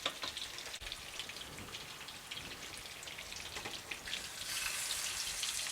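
Cube steaks browning in a hot pan crackle and sizzle continuously up close, with a brighter, hissier swell near the end and no talking.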